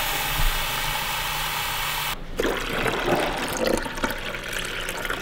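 Two cups of water are poured into a coffee maker, heard as steady splashing that shifts partway through to a rougher, bubbling pour, with a constant hum underneath.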